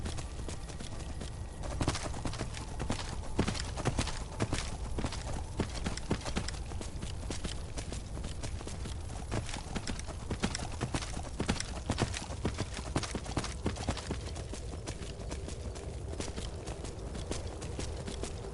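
Horse hooves clip-clop steadily on hard ground through the whole stretch, a dense continuous patter of hoofbeats at moderate distance with an occasional faint snort, no talking over it.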